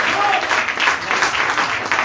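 A church congregation applauding continuously during a Sunday service, dense and steady clapping that fills the whole moment at close range.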